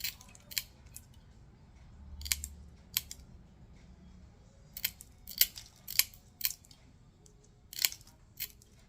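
Mosaic cutters snap through mosaic pieces: a dozen sharp, close crisp clicks at uneven intervals over faint room hiss.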